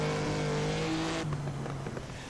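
A race car's engine on a track, a sustained tonal drone that drops in pitch partway through as it shifts or passes, loud and steady with no talking.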